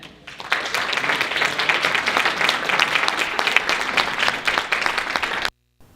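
Audience applause welcoming David Beckmann, president of an organization working to end hunger, at a gathering; dense, steady clapping from a sizable crowd that holds for about five seconds and then stops abruptly.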